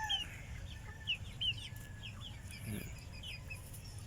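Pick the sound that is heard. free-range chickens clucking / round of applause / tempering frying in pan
free-range chickens clucking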